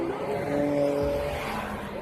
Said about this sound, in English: See how fast that car was going?